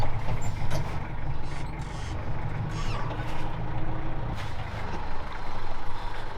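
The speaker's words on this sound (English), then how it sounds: "The brakes on this tractor are really not very good at all" A farm tractor with poor brakes braking and coming to a stop during afternoon chores, a loud, close, steady engine rumble with faint hiss over it and no speech.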